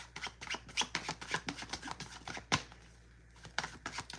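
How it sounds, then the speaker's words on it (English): Tarot cards are shuffled by hand in quick, repeated riffling flicks, close and fairly quiet, with a short pause before the shuffling resumes. "I just like to shuffle to help me zone out"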